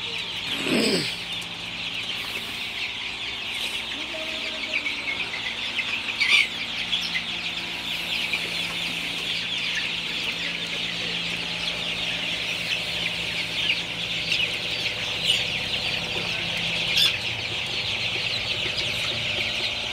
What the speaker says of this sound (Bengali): এই যে মুরগির ঘরের কোনা কাঞ্চি দিয়ে মুরগির বাচ্চাগুলো একদম জড়ো হয়ে থাকে